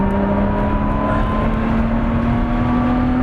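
A 2018 Lotus Evora 400 drives on a race track during an in lap, its engine a loud, steady droning hum that climbs slightly in pitch as it runs.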